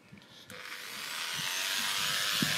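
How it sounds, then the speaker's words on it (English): Electric chisel stripping old plywood decking off a boat where a worn teak deck is being replaced: a buzzing, rasping motor noise that swells steadily louder, with a few knocks and scrapes at the start. "The electric chisel is fairly easily taking off the old plywood deck."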